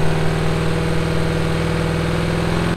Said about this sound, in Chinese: 环保局人员不断的吹油门